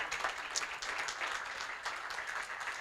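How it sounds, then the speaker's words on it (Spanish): An audience at a school-related community event in Mar del Plata applauds, a brief, moderately faint burst of scattered clapping lasting under three seconds with a few sharper individual claps standing out. "yo quiero pedir un fuerte aplauso por esta tarea que ha hecho el colegio"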